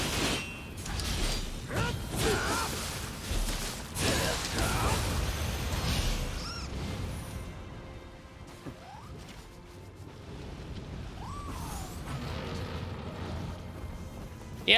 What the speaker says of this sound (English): that's the sound of Wheelmonk actually aggroing towards me